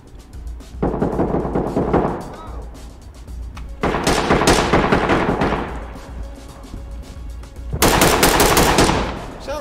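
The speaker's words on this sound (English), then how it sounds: "Why are you already shooting?" Automatic gunfire in a video game, three loud bursts of rapid shots separated by short pauses, each burst ringing out and fading briefly before the next.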